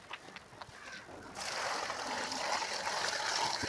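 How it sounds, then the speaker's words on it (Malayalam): Well water poured from a bucket into a basin: a soft, close gush of pouring water starts suddenly and keeps flowing steadily, with faint handling noises before it. "വെള്ളം കിട്ടി. നമുക്കിത് ഇതിലോട്ട് ഒഴിച്ചു കൊടുക്കാം."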